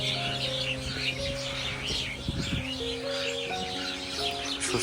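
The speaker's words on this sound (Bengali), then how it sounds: "মিনিমাম 20-30টা পাখি আছে এই জায়গাটার ভিতরে" A large flock of twenty or more birds chirps and twitters continuously at an outdoor spot in Tripura, a dense steady chorus with a low constant hum underneath.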